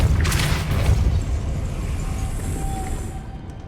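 A Depulso force spell impact in Hogwarts Legacy lands as a loud, close, booming burst with a rushing whoosh at the start, then settles into a rumbling tail that slowly fades.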